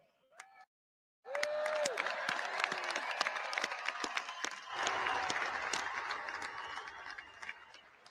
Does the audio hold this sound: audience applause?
yes